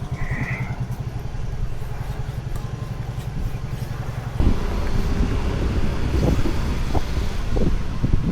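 A motorbike engine idles steadily up close with a fast, even pulse, then shifts to a louder, rougher note about halfway through, with wind buffeting the microphone.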